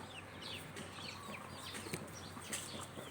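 Free-range chickens in a rural Isan village in Thailand, with soft clucks and calls scattered through steady outdoor ambience at a moderate distance and no talking.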